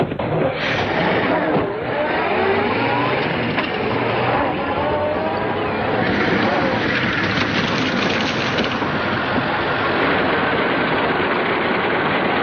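An Earthworm tractor engine drones loud and steady as the machine drives along, a continuous low rumble with no break, heard in an old Hollywood film.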